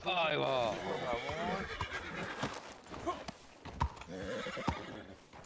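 A horse in the RedM video game neighs loudly with a wavering whinny, followed by scattered clip-clop hoof sounds, while people talk over it.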